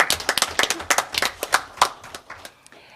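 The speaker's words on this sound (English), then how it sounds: "I want to clap." A handful of people at a city council meeting clap in sharp, scattered bursts that thin out toward the end, close by in a quiet room.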